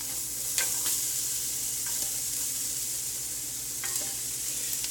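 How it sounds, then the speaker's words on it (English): Thin-sliced red pepper sizzles loudly in a hot pan, a constant bright hiss with a few clinks and scrapes of stirring, heard close and without talk. "Now we are going to add 1 red pepper cut into thin slices."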